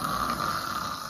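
People imitate snoring with a single drawn-out, rough nasal snore lasting about a second, loud and close.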